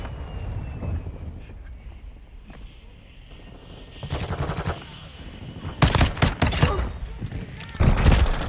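Rapid bursts of X12 pistol fire in Call of Duty Modern Warfare II, sharp cracking volleys in quick succession that grow louder and denser in the second half, over a background of game ambience and radio chatter.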